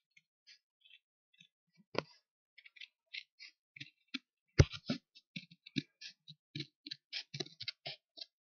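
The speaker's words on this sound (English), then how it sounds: "And then we cut off the strip." A strip of material is cut off for a model house in a sparse series of small, close, crisp clicks and snips, irregular at first and then quicker, with one sharper snap partway through.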